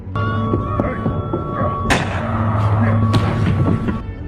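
Two sharp, loud pistol gunshots from a film scene crack out about a second apart, each followed by a brief echoing tail, amid low humming tones.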